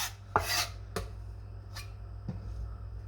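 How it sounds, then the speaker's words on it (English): A knife chops red onion or shallot on a cutting board in a home kitchen, giving four sharp, separate close thumps spread over a few seconds against a quiet room hum. "You chop this."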